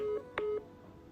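A phone call is placed and rings, heard as two short, clean electronic tones in quick succession, fairly close and clear with no voices.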